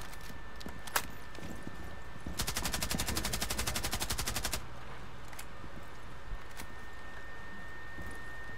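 Rapid automatic gunfire in the game Rainbow Six Siege rattles in one sustained burst of about two seconds, fairly near, set against quieter game ambience and a few isolated clicks.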